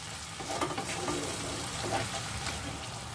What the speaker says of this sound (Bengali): এটা খুব ভালো করে কষিয়ে নেব